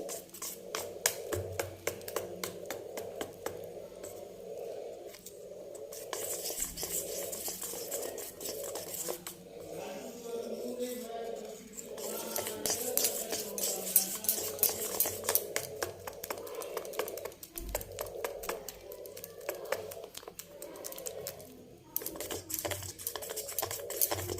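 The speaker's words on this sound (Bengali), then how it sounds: "এখন সবগুলোকে ভালো করে ফেটিয়ে নিচ্ছি" Spices, chicken masala, turmeric, salt and a little sugar are beaten together in a bowl, giving brisk, rhythmic tapping and scraping strokes that carry on in bursts with brief pauses, close and fairly quiet.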